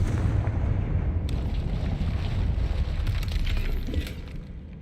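A Confringo fire spell detonates in Hogwarts Legacy, a loud, sustained rumbling blast with crackling debris that stays dense for several seconds before easing off near the end.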